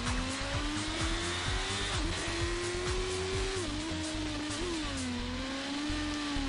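A BMW Z3 M coupe driven hard by a professional racing driver during a police chase, its engine holding a steady high drone with slight pitch dips through gear or throttle changes, continuous and loud without talk.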